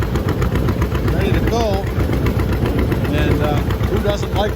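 A green and yellow tractor with a hay rake hooked up runs outdoors, its engine chugging in a loud steady rhythmic knock as someone talks over it.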